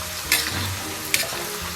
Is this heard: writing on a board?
no